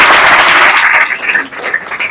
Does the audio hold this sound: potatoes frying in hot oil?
no